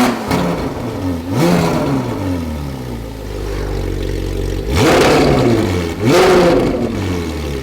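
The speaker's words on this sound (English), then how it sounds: "it controls the valves on the muffler, and it goes from like insanely loud to almost stock quiet" A Ferrari 458 with a loud aftermarket valved exhaust revs repeatedly, each blip rising and falling in pitch with a rough, snarling tone, heard up close and alone.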